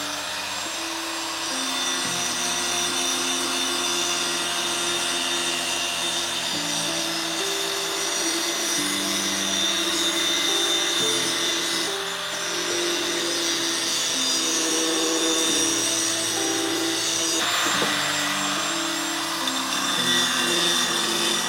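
An angle grinder cuts steel for a 2-ton benchtop hydraulic press, a loud, continuous high whine that shifts in pitch as the load changes, close and alone.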